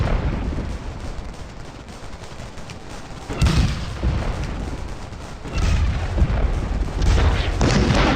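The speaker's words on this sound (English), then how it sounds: "Then I go over to the rebel artillery to see why they're firing so accurately" Artillery fire in the Scourge of War: Gettysburg video game, repeated booming cannon shots with rolling crackle of gunfire, several heavy blasts at irregular intervals over continuous battle noise.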